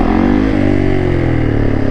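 A Yamaha YZ450F dirt bike engine revs loud and close, a steady, harsh four-stroke roar that holds high throughout with slight pitch wavering, no voices over it.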